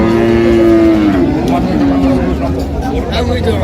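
A dairy cow at Raniganj cattle market in Dinajpur gives a long, loud moo near the start, and then the lowing fades into a busy background of crowd chatter and market noise.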